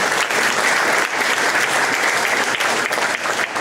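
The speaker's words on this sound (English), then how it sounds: "I think they deserve a round of applause for these wonderful plaques in the Hall of Fame." A crowd applauds at a Hall of Fame press conference, steady dense clapping that fills the room from start to finish without any voices over it.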